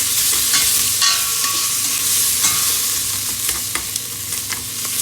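Braised beef cheek ingredients stirred in a hot pot, with a constant close sizzle and scattered scraping stir strokes throughout, no voices.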